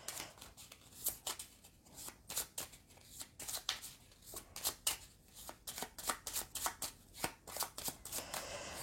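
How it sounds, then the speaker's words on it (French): Cards from a discard pile being shuffled on a table during a board game, a quick series of crisp riffling bursts repeating about twice a second, close and quiet. "On va mélanger la défausse."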